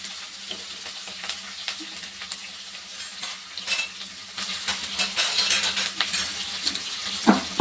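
Oil sizzles and crackles steadily as chopped onions fry, with occasional stirring scrapes and clinks, the sizzle growing louder toward the end.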